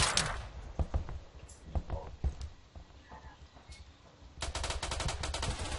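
Gunfire in the Roblox game Phantom Forces: scattered shots crack early, then a rapid burst of automatic fire rattles near the end, loud against quieter game ambience.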